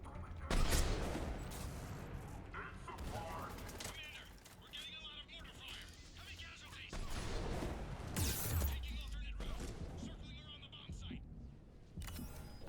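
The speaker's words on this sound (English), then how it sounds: "Commander, we're getting a lot of mortar fire." Mortar blasts and bursts of gunfire from the Mass Effect 3 battle on Tuchanka, heavy booms and crackling shots over a rumbling background, with voices talking throughout.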